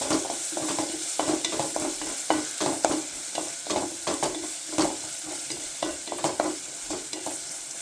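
Onions sautéing in a pan on the stove for chicken kabsa, a steady sizzle broken by repeated scraping stirs of a spoon, close up with no talking.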